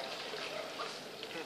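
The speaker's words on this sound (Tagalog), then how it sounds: "Malakas ang tubig, maraming tubod." Water gushes strongly from a Jetmatic hand pump well as a steady, broad rushing splash that lasts throughout, with people talking over it.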